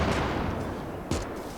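A cannon in the Gates of Hell real-time strategy war game fires two loud, booming shots about a second apart, each a sharp blast that fades into rumbling battlefield noise.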